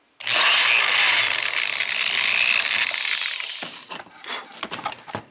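A power drill bores into the pin chamber of an Arrow KIK 6-pin lock, giving a loud, sustained high whine for about three seconds that then breaks into short scraping bursts as the bit works.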